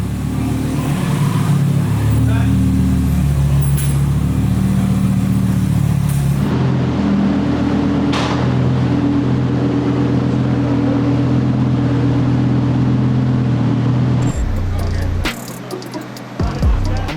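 A supercharged V10 Lamborghini Huracan STO runs on a dyno, its loud, steady engine drone filling the space, then changing in tone partway through and shifting again near the end.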